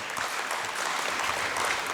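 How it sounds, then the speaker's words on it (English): A crowd claps steadily, a dense even patter of applause from many hands throughout. "give Denisha a round of applause as well."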